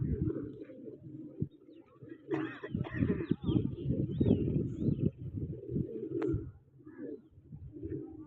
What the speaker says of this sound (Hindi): माशाल्लाह खूबसूरत कबूतर सही